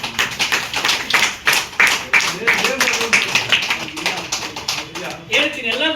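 Audience at a gold coin lucky draw clapping for a winner, a run of sharp, uneven claps under someone talking over the public address.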